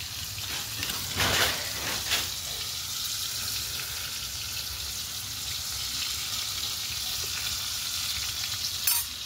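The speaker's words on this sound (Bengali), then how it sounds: "মাছ ভাজা বসিয়ে দিয়েছে" Fish frying in a pan in a home kitchen, a steady close hiss and crackle of hot oil running throughout with a couple of louder spatters near the start and end.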